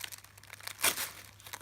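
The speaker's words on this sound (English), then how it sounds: "So, I will rip around it." Paper ripped open by hand during an unboxing, close crinkling and rustling that builds into one sharp tearing burst in the middle, then more rustle.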